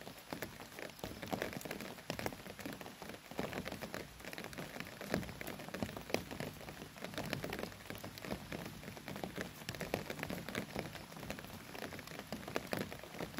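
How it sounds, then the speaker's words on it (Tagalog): Steady rain falls over a rice field, a dense, continuous hiss and patter of drops on surfaces without a break, with no voices. "Video lang kasi umuulan."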